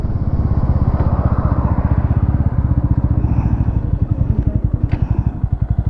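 A Bajaj Pulsar NS160 motorcycle at full throttle in a drag race against a TVS Apache 160, its engine a loud, steady rapid pulsing drone held close throughout, easing slightly near the end.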